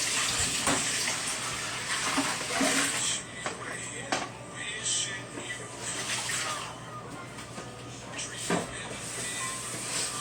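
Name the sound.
water pouring into pot for soup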